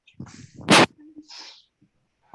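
A single sharp, loud sneeze bursts out close by, with brief bits of voice and breath just before and after it.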